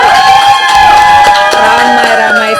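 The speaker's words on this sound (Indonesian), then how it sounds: "tepuk tangan dulu dong" Studio audience cheering and applauding on a podcast set, a loud continuous crowd roar with shouting voices and some high excited calls, steady from start to finish.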